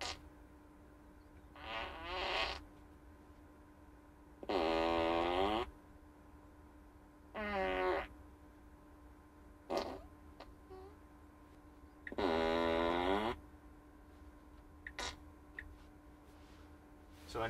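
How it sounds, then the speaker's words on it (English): A Tesla Model 3 Long Range (2021) Easter egg plays synthetic fart sound effects through the car cabin, several separate bursts of varying length spaced apart over a quiet interior background. "So anytime you use the turn signal, we'll just fart."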